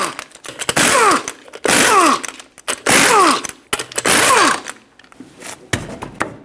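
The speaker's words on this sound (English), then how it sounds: "Use a 19mm socket, remove all 5 lug nuts, and then pull the wheel off" An impact wrench with a 19mm socket zips off lug nuts from a 2008-2012 Honda Accord wheel in four loud, close whirring bursts, each winding down in pitch, followed by quieter rattles.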